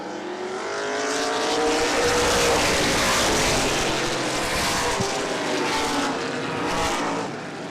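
Late model sportsman stock cars racing side by side in a 30-lap feature at an oval track, a loud roaring pack of engines swelling and fading as they pass, continuous with no voices.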